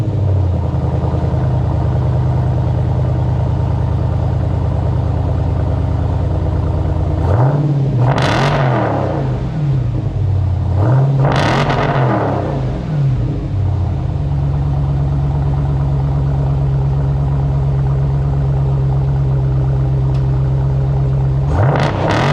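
A deep V8 idle from a 2023 Dodge Challenger Scat Pack with the 6.4 Hemi and AWE Track Edition exhaust rumbles steadily, broken by two sharp rev blasts that surge and fall back, then a third rev begins at the end. Loud and close.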